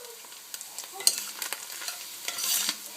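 Corn mince fries in a hot pan with a constant bright sizzle. Quick scraping stirs and utensil clicks break through it, and nobody talks.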